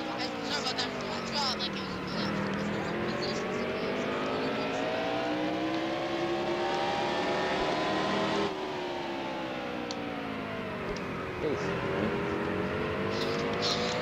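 Race car engine in a racing video game at Martinsville, a continuous droning roar that rises and falls through the gears over the full stretch, with a player talking faintly underneath.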